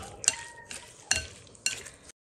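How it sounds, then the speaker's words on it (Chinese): A spoon stirs seasoning sauce into a dish in a bowl, giving three bright clinks against the dish amid soft wet mixing noise, close and fairly quiet. "调好的料汁加进来， 我们开始搅拌，搅拌均匀就可以直接吃啦"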